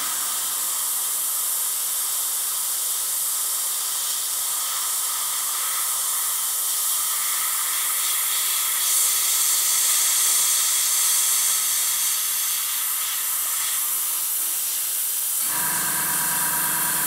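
An airbrush sprays MRP lacquer paint onto a tiny model part in one long, steady hiss of air that holds close and even for about fifteen seconds, then stops abruptly.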